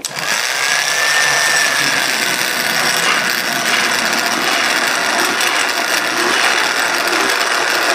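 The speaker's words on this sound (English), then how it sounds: "what I'm going to do now is thicken it using a burr mixer" An immersion blender whirring loudly in a pot of vegan lentil soup with vegetables, a dense, steady high-pitched motor drone that runs without pause, close and alone.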